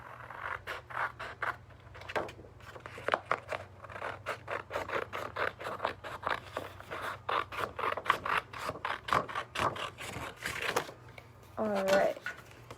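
Scissors cut a sheet of paper in half for bookmarks, a run of crisp snipping and scraping strokes with short pauses, close and fairly quiet, with a voice talking now and then.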